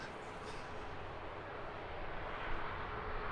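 A Wizz Air airliner taxis at Luton Airport, its engines giving a steady, broad jet roar that holds at an even level and swells slightly toward the end, with no voices over it.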